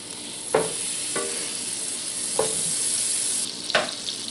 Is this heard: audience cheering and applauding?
no